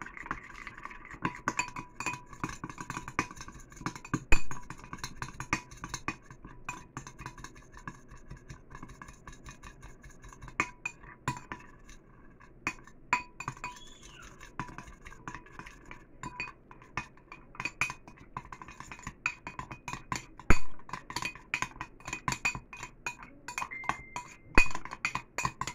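Toothpaste being mixed in a glass gives light, irregular clinks and taps of a utensil against the glass, close but quiet, with pauses between bursts of stirring.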